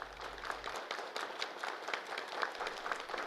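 Participants at a ceremony handing out new housing permits to residents of a disaster-hit area clap in a rhythmic, even beat, the applause moderately distant and sustained.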